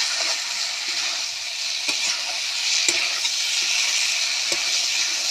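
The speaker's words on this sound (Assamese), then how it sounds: "অলপ ভাজি লওঁ।" Tomato masala for an Assamese pea curry fries in a pan with a continuous bright sizzle, broken by occasional sharp scrapes of stirring. It is close and fairly loud, with no talking.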